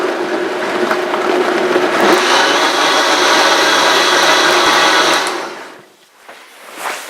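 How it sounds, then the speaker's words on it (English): A kitchen blender whirs loudly and steadily for about five seconds while mixing gravy ingredients for dogs, then winds down and stops, leaving only a few faint knocks. "I'm going to go ahead and crank this thing up and blend all these goodies."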